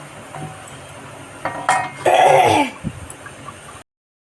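A lid is set onto a pot of tilapia and potato fish curry with a metallic clink and a brief scraping clatter near the middle, preceded by a few small knocks, then silence.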